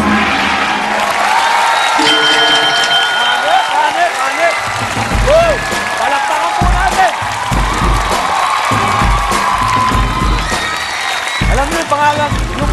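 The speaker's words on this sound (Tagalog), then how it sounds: "Palakpak" A large audience at a public event in the Philippines bursts into loud applause mixed with cheers and whoops, sustained throughout, with a speaker's voice cutting in over the crowd.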